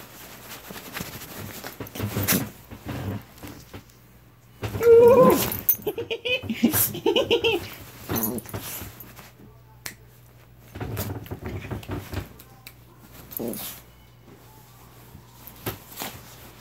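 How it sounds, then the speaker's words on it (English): A Pug-Chihuahua mix puppy whimpers and yips in short excited bursts near the microphone, with scattered snapping and shuffling sounds and a person talking in between. "You're such a crazy puppy."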